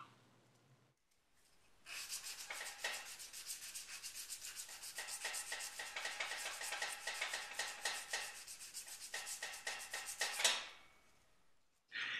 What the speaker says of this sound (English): I'll shift the sandpaper over to a fresh spot before moving on to the next one.